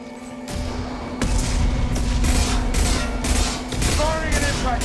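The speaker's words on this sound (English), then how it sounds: "Firing an impact shot." Impact shot gunfire in the Mass Effect 2 video game: a few heavy, booming blasts in sequence, loud and near, over a steady sci-fi hum and game ambience, with a brief higher whirring sweep at the end.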